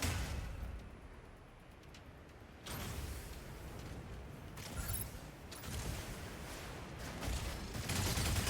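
Video game combat fills the scene with dense, loud explosions and gunfire, a continuous barrage of booms and rattling shots swelling and easing in waves with no one talking.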